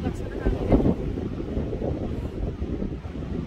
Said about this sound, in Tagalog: Pero ang lakas na ng hangin.